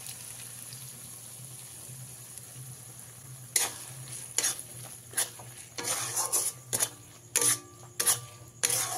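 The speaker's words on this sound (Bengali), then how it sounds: "আদা রসুনটা ভালো করে ভাজা হয়ে গেলে এর মধ্যে দিয়ে দিতে হবে বানিয়ে রাখা সেই পেস্টটা।" Ginger and garlic fry with spice paste in a pan for Bengali doi katla. A steady low sizzle runs throughout, joined halfway by a string of close scraping stirs and sharp utensil clatters against the pan.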